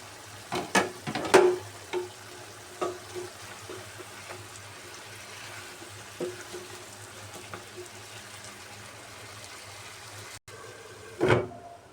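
Broiler chicken curry (bhuna) is stirred in a pan after the lid is lifted: scattered scrapes and knocks of a spoon against the pan over a soft sizzle, a brief pause, then one loud final scrape, with no voices.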